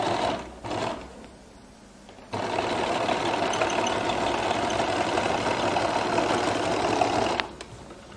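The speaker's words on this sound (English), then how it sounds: "And I'll sew here." A sewing machine stitches a flared skirt, with a brief start, a pause, then a steady mechanical whir running for several seconds before it stops.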